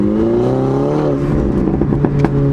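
A 300 hp Mini Cooper S engine pulls hard under acceleration, a loud steady rising drone with bright harmonic tones that climb, then near the end sharp crackling pops burst through.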